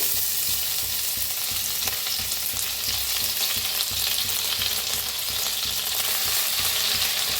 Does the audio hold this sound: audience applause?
no